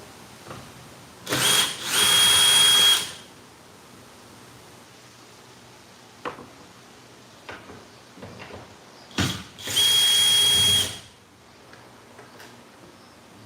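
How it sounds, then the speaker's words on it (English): A power drill removes 10mm bolts on a 2025 Tacoma truck bed, with two loud bursts of whirring about a second or so each, separated by quiet stretches with a few clicks and clunks of handling. "then we're going to remove the two 10mm bolts from above, just like before"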